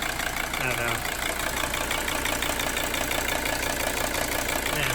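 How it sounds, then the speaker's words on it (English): Mercedes 300SD diesel engine idling steadily with a dense, continuous rattling clatter close by, running for a few minutes after a top-up, with a voice briefly speaking over it. "Well, the car has been running for a few minutes after I topped up the bottle again."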